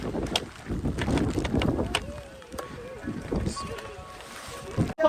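Wind blows across the Girnar hills during light rain, a steady rushing gust buffeting the microphone with some swells and dips throughout, fairly close and continuous.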